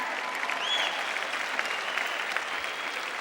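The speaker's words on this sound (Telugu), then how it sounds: "మనం అరవగలమని చప్పట్లు కొట్టగలమని" Congregation clapping in a church service, a steady dense wash of applause from many hands, moderately distant and even throughout with no talk over it.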